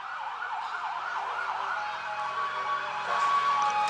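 A fire department ambulance siren at a small-town Christmas parade in Jonesville, South Carolina, wailing up and down in repeated loud sweeps that then shift to a steadier tone near the end, with no talking.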